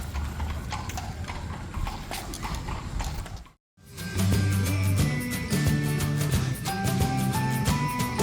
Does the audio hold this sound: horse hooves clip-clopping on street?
yes